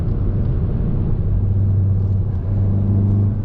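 A tuned Volkswagen Mk7 Golf R under acceleration, heard from inside as a loud, steady low engine rumble and drone that holds for several seconds without talk.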